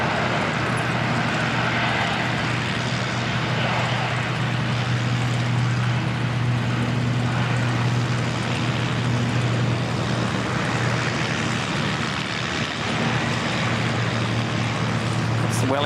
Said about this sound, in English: Wellington ATR heading off.